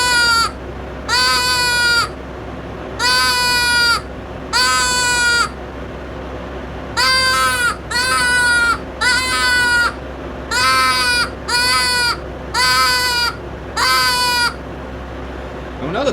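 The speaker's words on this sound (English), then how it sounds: "the fawn bleat call is the same identical call body, the wood part, as like the squirrel distress" A wooden-bodied fawn bleat game call for deer hunting gives about eleven loud, nasal, bleating calls, each roughly half a second to a second long, in pairs and short runs, with no talk over them.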